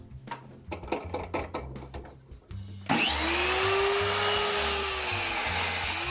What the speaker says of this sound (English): you can see we're cutting up this 2x4 here so we can fasten the wheel to the base of this leg